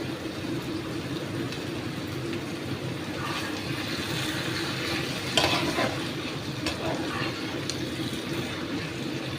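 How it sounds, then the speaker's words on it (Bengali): A spoon stirs hilsa fish head with pui greens and a little mustard paste in a pan, giving a steady, soft scraping and low sizzle throughout, with a few sharper clinks near the middle. "দিয়ে দিয়ে এবার একটু নাড়াচাড়া করি"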